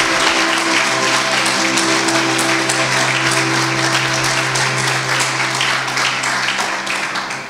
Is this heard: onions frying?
no